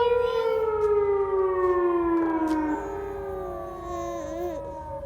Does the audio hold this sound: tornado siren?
yes